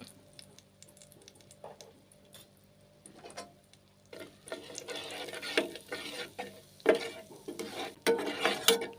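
Onion masala with garam masala, turmeric and salt fries in a pan for egg biryani, with soft sizzling and quiet spoon stirring that grows busier and louder, marked by a few sharp scrapes and clinks against the pot.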